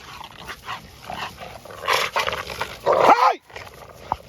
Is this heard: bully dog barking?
yes